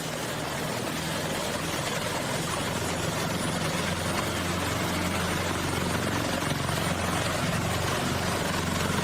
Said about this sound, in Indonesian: Ya, 8 helikopter. Mengiringi, membawa bendera merah putih di udara.